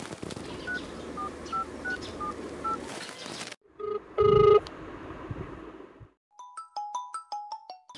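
Phone keypad tones beep in quick succession, then a short ringing tone sounds before another run of electronic dialing beeps; no talking.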